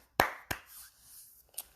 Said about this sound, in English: I'm gonna go ahead and give myself a round of applause.